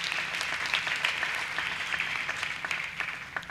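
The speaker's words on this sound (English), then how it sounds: "I would like us to congratulate them by giving them the warmest round of applause for" A crowd at a college graduation ceremony in Bloemfontein applauds, a steady wash of many hands clapping in a large hall, moderately loud and without talk.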